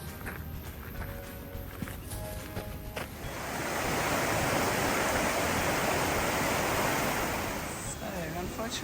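A waterfall on a walk in the Taranaki to Taumaranui region of New Zealand swells into a broad, steady rushing roar after a few seconds of quieter outdoor ambience with footsteps and faint talk, then eases slightly near the end.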